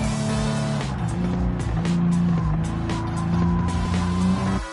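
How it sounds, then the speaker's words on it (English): Race cars in Gran Turismo 7 roar past at high revs, tires squealing and skidding in long sustained screeches over a dense, loud engine drone. "cars can definitely sound screaming, especially when they have a modified exhaust"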